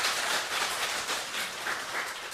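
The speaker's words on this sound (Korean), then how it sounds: "우리 다시 한번 힘찬 감사의 박수를 보내드리도록 하겠습니다." Audience at a religious lecture applauding together, a dense, even patter of many hands clapping continuously at moderate volume without any talking.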